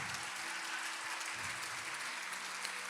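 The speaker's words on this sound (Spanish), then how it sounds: "Vamos a darle un aplauso al Señor." A church congregation claps together in steady, fairly soft applause that holds evenly throughout, with faint low rumbles beneath.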